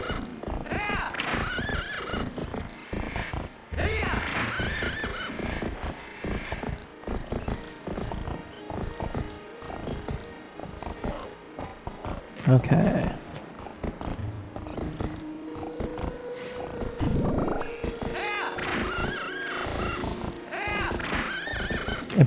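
The horse Epona neighs and whinnies in the video game The Legend of Zelda: Twilight Princess, strained calls repeating over game sounds and hoof clatter, with a brief spoken word near the start.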